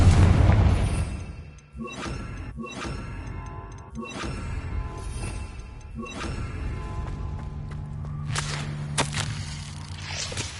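A Confringo blasting spell from the Hogwarts Legacy video game bursts with a loud booming crash at the start, followed by sharp whip-like cracks and thuds from game action that repeat through the scene.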